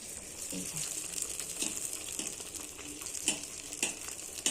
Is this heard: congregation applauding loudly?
no